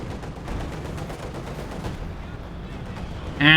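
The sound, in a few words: strafing run gunfire in the video game Company of Heroes 2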